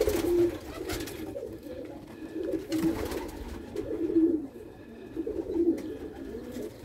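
A racing pigeon being handled coos in low, repeated throaty phrases, fairly close, with soft rustling in the background between calls.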